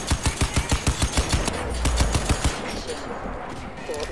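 Automatic gunfire rattles in Crysis 2 on PC, a fast even string of loud, close shots over roughly two and a half seconds before trailing off into a softer, noisy tail.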